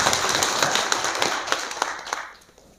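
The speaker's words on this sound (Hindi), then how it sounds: "आप सब के लिए भी और हमारे ओम्बड्समैन के लिए भी जोरदार ताली होनी चाहिए" An audience at a Reserve Bank of India financial literacy programme in Zanskar claps, a loud, dense burst of handclaps that thins out and fades over a few seconds.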